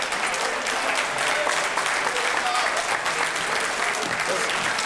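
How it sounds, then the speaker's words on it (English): A large crowd at a men's breakfast meeting gives a dense, sustained round of applause, loud and even from start to finish. "Let's give our brother a thunderous round of applause."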